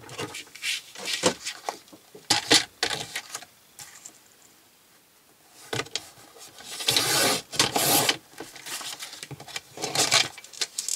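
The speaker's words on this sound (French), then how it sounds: "Là, il va falloir que je fasse une coupe ici, à peu près." Close, irregular rasping cuts and scrapes while trimming paper for a wedding scrapbook album page, coming in bursts with a quiet pause in the middle.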